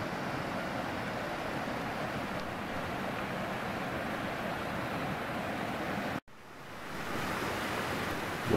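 A small stream rushes steadily beside a hiking trail on a damp, overcast day, a close, continuous broadband wash of flowing water with no talk, briefly cut off once before resuming.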